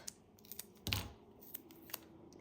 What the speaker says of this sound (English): We're gonna cut that.